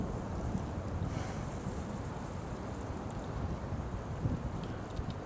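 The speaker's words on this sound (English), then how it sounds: "The wind kind of sucks" Strong wind buffets the microphone outdoors at a fishing pond, a loud continuous rushing roar with gusty swells throughout and no voices.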